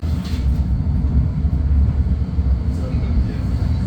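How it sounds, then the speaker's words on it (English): A ride aboard Prague's newest tram, the 52T, gives a steady, loud low rumble of rolling wheels and motors throughout, with a brief higher swish early on and a voice talking over it. "the tram we're going to be riding on is Prague's newest tram"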